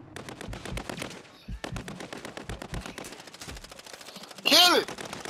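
Rapid automatic gunfire in the video game Call of Duty, dense bursts of shots that rattle on almost continuously and are briefly interrupted, with a louder burst near the end and players' voices mixed in.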